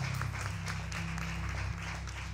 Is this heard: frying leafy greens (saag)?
no